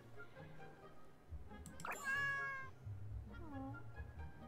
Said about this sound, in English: Oh, the cat. What about... Oh, it doesn't like that.